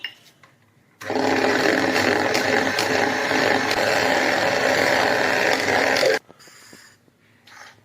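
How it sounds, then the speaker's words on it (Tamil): An electric beater mixing cake batter at home: a loud, close whirring motor that runs steadily for about five seconds, then cuts off. "இதை ஆட் பண்ணிட்டு நல்லா பீட் பண்ணணும்."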